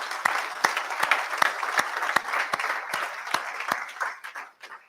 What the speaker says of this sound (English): please a round of applause for parents